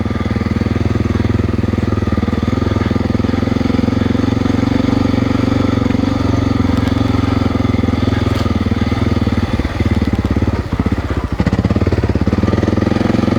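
Honda XR600R motorcycle being ridden in third gear on a test run, a loud, steady single-cylinder engine drone with a rough throb and brief bumps and knocks near the end.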